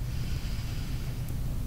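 A person draws a deep, loud, close breath during an EFT tapping session. A single breathy rush carries a low, rough airflow throughout and no speech.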